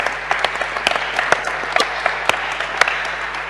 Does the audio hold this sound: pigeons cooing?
no